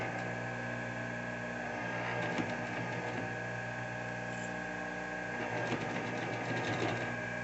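A sewing machine runs steadily, stitching a circular waterproof bag piece that is turned as it feeds, with a constant mechanical hum and two brief louder bursts of clatter.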